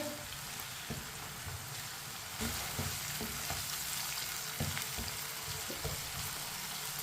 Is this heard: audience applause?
no